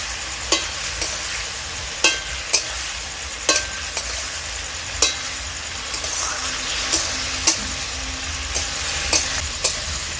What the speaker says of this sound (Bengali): ভেজে রাখা আলু মশলার সাথে আলুটাকে আমি বেশ ভালো করে কষাতে থাকবো